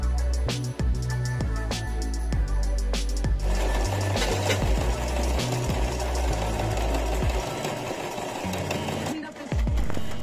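A sewing machine rapidly stitches the edges of a boat's canvas bimini top in quick mechanical bursts, close and loud, pausing briefly between runs with a steady hum behind.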